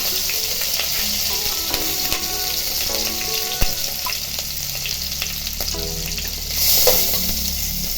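A bay leaf and three green chillies frying in hot oil for a fish egg curry, a dense continuous sizzle with a couple of brief knocks and a swell of crackling near the end, close-up.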